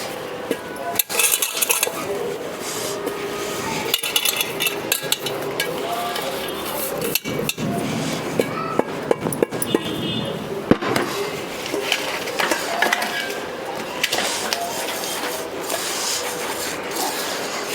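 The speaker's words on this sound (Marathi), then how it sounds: "चाळून घेऊया." Finely ground poha (flattened rice) being sieved, a steady rasping, rubbing shuffle with frequent small knocks and scrapes, close and continuous throughout.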